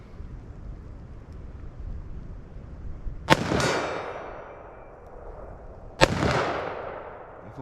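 .357 Magnum rounds fired from a short-barrel revolver outdoors, two loud sharp shots about three seconds apart, each followed by a long rolling echo that fades slowly.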